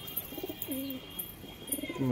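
Soft, low coos of a homing pigeon repeat several times at close range, with light background noise between calls.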